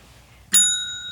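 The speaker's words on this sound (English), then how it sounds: "That's our new bell." A newly acquired bell rung once to announce a prize drawing, a single bright ding with a clear metallic ring that sustains and slowly fades, close and fairly loud after a quiet moment.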